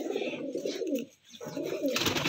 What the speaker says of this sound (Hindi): ये अली भाई के सफ़ेद कबूतर हैं